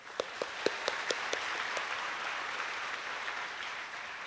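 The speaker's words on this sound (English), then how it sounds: "Give a round of applause for all of our managers." A crowd at a university orientation for incoming exchange and visiting students claps for the managers: a few sharp, distinct claps at the start swell into steady, dense applause that holds to the end.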